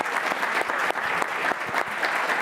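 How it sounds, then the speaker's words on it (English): A round of applause at a county council meeting, a moderate crowd clapping steadily with individual claps distinct in the mix, brief and unbroken by talk. "So give a round of applause for Molly."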